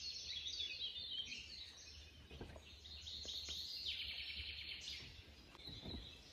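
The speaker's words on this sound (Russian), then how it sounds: "И послушайте, какие птички." Birds sing and chirp in a forest beside a roadside picnic spot, a steady overlapping chorus of high calls from several birds at middle distance, with no talking.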